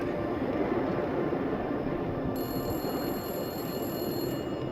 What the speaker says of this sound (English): the payphone started ringing